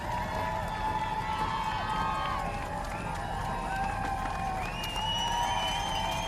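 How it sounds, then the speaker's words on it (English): Roadside crowds along the embankment on the London Marathon course cheer runners passing by, a continuous roar of voices with whistles and shouts under steady outdoor noise. "Good crowds along the embankment."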